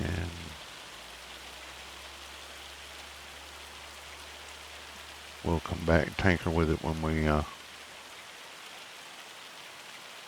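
Steady rain falls in Farming Simulator 25, a soft, even hiss that runs the whole time, with someone talking briefly over it partway through.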